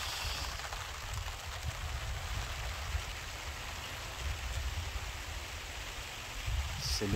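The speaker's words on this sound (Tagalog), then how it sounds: "Thank you Lord sa ulan." Rain falls steadily in a soft, even hiss, faint and continuous with no other sounds standing out.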